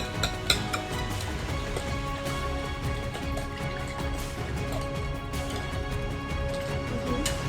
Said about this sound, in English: Now we're gonna whisk it all together